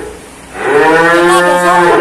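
Limousin cattle at a cattle market give one loud, close, drawn-out moo with a rich harmonic tone. It starts after a short quiet moment and lasts most of the way to the end.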